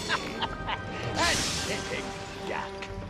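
A duck in a video game quacks several times in quick, uneven bursts, close and clear, while people talk and laugh over it and a brief whoosh cuts through.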